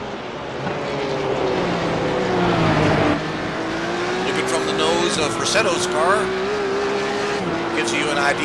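A Porsche Cup race car powers up the Mount Panorama hill. The engine rises and drops through gear shifts and lifts off the throttle, loud and close, with a commentator talking over it.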